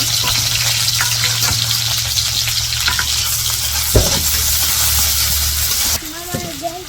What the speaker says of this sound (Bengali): কড়াইয়ে পেঁয়াজ আর কাঁচামরিচ দিয়ে দিব